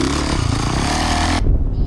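A Yamaha YZ450F dirt bike engine revs loud and steady up close for a wheelie, a dense mechanical roar that cuts off sharply and drops to a lower, rougher rumble.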